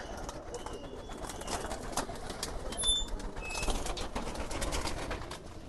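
Pigeons coo softly in the background with quiet rustling and occasional wing flutters, all fairly faint and steady.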